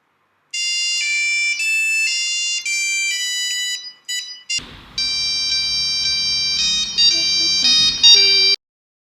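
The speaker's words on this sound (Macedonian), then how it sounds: "композерот на кој што може сами да се компонирате рингтон, например Imperial March од Star Wars" A Nokia 3310 mobile phone plays a user-composed monophonic ringtone of the Imperial March from Star Wars, with loud, clear beeping notes in a steady melodic rhythm that briefly breaks and resumes with a second phrase.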